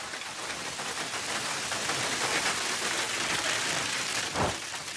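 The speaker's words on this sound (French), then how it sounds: "Ici, dans le département de la Loire, 30 minutes de grêle en continu." Hail pouring down continuously during a violent summer thunderstorm in the Loire region of France, a dense, steady roar of pelting stones that stays loud throughout, with one sharper knock near the end.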